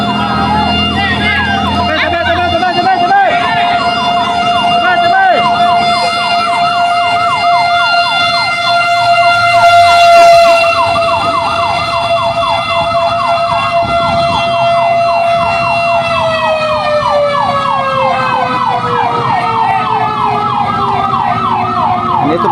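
A fire truck siren wails continuously and loud at a burning public market in Santa Cruz, Laguna, its tone sliding and holding steady before falling away near the end, with a second engine arriving and crowd noise beneath.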